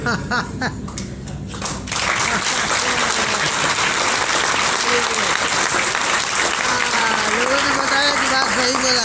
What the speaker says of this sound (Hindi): खाली पेट में ताली बज रही है ना